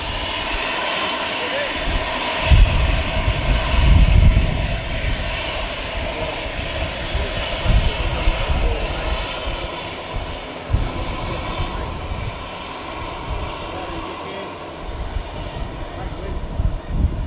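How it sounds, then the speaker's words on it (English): An EasyJet airliner departs Manchester Airport for Paris Charles de Gaulle, its jet engines producing a broad, steady roar that swells and lingers at middle distance, with someone speaking over it. "Here we go, EasyJet. This aircraft off to Paris, Charles de Gaulle."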